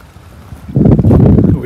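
Gusting wind buffets the microphone beside the River Orwell at Levington marina, a loud rumbling roar that swells and stays strong.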